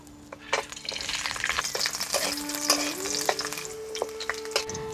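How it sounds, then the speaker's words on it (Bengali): Whole ginger and garlic sizzle in hot oil in a pan, a close, steady crackle with sharp pops and occasional stirring clinks, no voices. "এরপর আদা রসুন যে গোটা গোটা রেখেছি এটা ভেজে নেব।"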